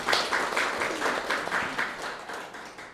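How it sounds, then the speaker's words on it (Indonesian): Audience applause at a teachers' and staff work meeting at an Islamic junior high school in Bekasi, a dense patter of many hands clapping together that swells at the start and slowly fades over a few seconds. "tepuk tangan buat kita semua."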